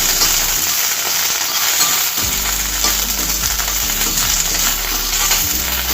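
Curry leaves sizzle and fry in hot oil alongside cauliflower pieces for gobi 65, a steady loud crackling hiss throughout with occasional stirring clinks, no voices.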